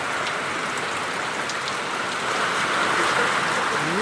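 Heavy rain pours steadily during a Kalbaishakhi storm, a dense, loud hiss of drops striking surfaces without pause, with gusting wind and a faint voice briefly under it.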